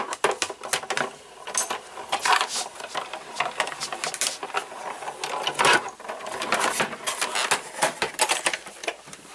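A die cutting machine runs a Lawn Fawn stitch border die through, giving a steady mechanical whir broken by dense clicks and crunching pops, close and fairly loud, with no talking.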